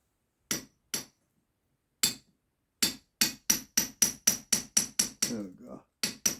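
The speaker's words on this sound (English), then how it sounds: "So basically, I'll use a chisel at the end of the nail." Sharp metal hammer blows strike a chisel into a rubbish plaster wall: a few spaced knocks, then a fast steady run of about a dozen ringing hits, close and loud, with a short scraping pause before two final strikes.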